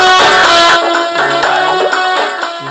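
A song plays loudly from an Android phone through a volume booster app, bright and dense with strong harmonic music filling the short stretch without a break.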